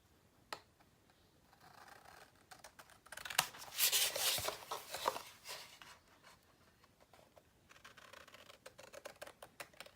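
Paper corners being trimmed for a handmade Christmas countdown mini album, heard as a scattered run of small crisp clicks and snips, busiest in the middle, with brief rustling between the cuts and no talking.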